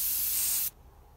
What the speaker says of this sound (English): I'm going to do a test spray